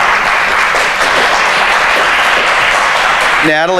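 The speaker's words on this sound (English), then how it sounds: "Please, a round of applause." A symposium audience applauds with dense, steady clapping that stays loud and even for several seconds, then stops abruptly and a brief tonal sound follows.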